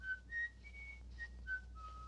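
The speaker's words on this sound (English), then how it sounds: "must you keep whistling Here Comes the Bride all day long?" A person whistles the tune Here Comes the Bride indoors, a thin, clear melody of sustained notes at a moderate pace, soft and somewhat distant over a low background hum, with no talking.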